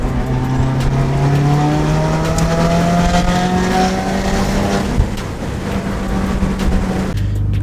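A turbocharged Subaru WRX making about 370 horsepower accelerates hard, its engine note climbing steadily before two quick gear changes. The roar is loud and close, with no talking.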